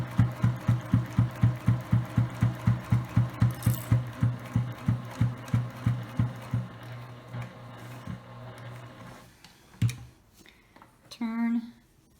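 A sewing machine stitches a fabric coaster in a steady rapid run of mechanical clatters that slows and stops partway, followed by a few softer handling sounds and a short bit of talk near the end.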